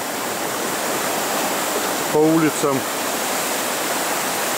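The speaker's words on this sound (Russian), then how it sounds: "Вода идет." Flood water of the Razdolnaya river rushing steadily past as a loud, continuous broadband roar near the village, with a voice briefly speaking over it.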